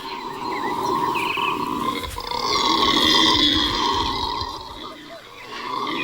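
Howler monkeys in the Amazon rainforest howl together in deep, guttural roaring calls, a sustained rising and falling chorus that carries loudly throughout, with a slight swell in the middle.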